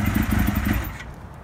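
A 1975 Kawasaki Z1 900 in a Rickman frame idles with a steady, pulsing engine rumble close by, then the sound drops away abruptly after about a second.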